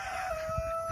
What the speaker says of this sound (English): All right, so this is Omar's chickens.